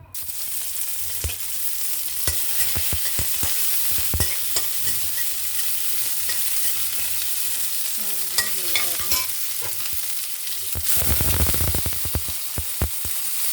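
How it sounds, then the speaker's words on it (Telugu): Mustard seeds and chopped onions fry in hot oil with a steady close sizzle, broken by sharp crackles and pops of the seeds and occasional stirring clatter. "ఇంకా పోపు ఆవాలు వేసాను. ఆవాలు చిట్పట్లాడితే కొంచెం ఆయిల్ వేస్తాను."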